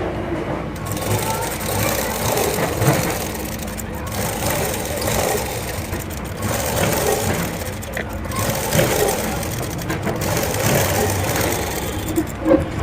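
A sewing machine top stitches a plain blouse in long continuous runs of motor whir with a few short pauses, while someone talks over the stitching throughout.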